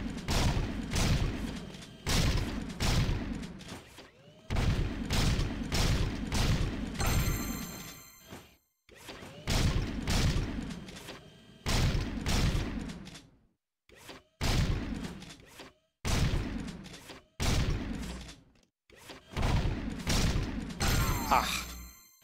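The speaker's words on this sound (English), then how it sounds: "Now that the gun fires faster." A rapid-firing gun in Jak 2 blasts in dense bursts, loud clusters of shots separated by brief silent gaps, with a ringing electronic tone over some volleys.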